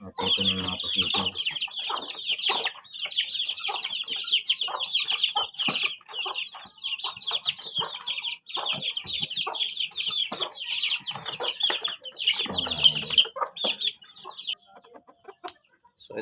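Pet native chickens and roosters in a small backyard, clucking and chattering continuously in a dense, busy chorus at close range, with a few brief background sounds.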